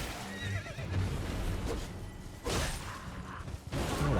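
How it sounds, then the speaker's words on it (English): A horse in the video game Elden Ring whinnies loudly, its neighs rising and falling over clip-clopping hooves and mechanical game noise, with a burst of whooshing effects partway through and no talking. "Oh, the horse is dead, and you're dead."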